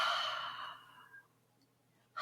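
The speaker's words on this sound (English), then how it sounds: "ha, the sound of the exhale" A long, breathy exhale during a yoga breathing demonstration, close and soft, fading over about a second, followed by quiet and the start of a new breath.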